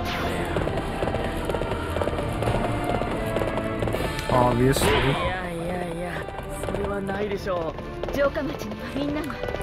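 Horse hooves clip-clop at a gallop in the video game Warriors Orochi 3, a steady rhythmic beat under game music and someone talking over it.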